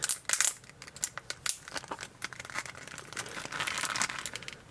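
A 1/7 scale Loki figure's ratcheted joint gives a quick run of crisp, close clicks and crinkly snaps, irregular and fairly soft, with no speech.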